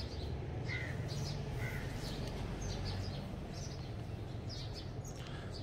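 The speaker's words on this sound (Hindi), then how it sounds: "तो ये आवाज़ आ रही है ना आपको चिड़ियों की" Birds chirp and caw outdoors in winter, short repeated calls scattered across the clip over a steady low rumble of background noise, no talking.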